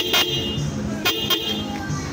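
Short honks from a Hella horn newly installed on a Honda Click 125i motorcycle: two or three brief toots over steady background noise, with people talking nearby.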